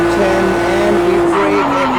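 A BMW 1 M Coupe engine roars at full throttle in a racing game, a steady, loud, high-pitched drone that climbs slightly in pitch, with faint tire noise and a voice under it.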